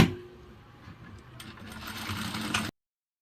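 A sewing machine stitches a seam on a kalidar kurta in a tailor's shop, a short burst of fast mechanical whirring that builds slightly before cutting off, with no talk.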